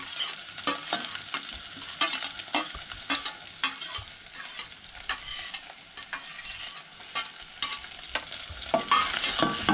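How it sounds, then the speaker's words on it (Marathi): Onion and chilli frying in oil in a pan for a Goan fish curry, with steady crackling sizzle, scraping stirs and sharp clicks of a spoon against the pan, fairly close and without talk. "सो हे बरें न्हय तळसळून घेवंक जाय कांदो आनी मिरसांग"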